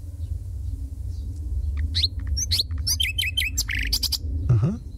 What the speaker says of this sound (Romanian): Eu am o privighetoare roșcată în cartier.